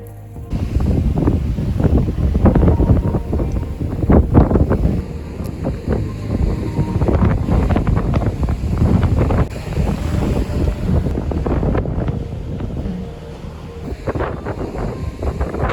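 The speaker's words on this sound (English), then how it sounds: "crazy windy" Strong gusty wind on a sunny rock-strewn beach, a loud, constant roaring buffet that rumbles across the microphone with crashing surf underneath, no voices.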